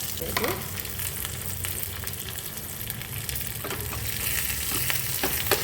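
Urad dal, chana dal, chilli and curry leaves crackle in hot oil as a tempering for curd rice. The steady close sizzle carries a few sharper pops and spatters.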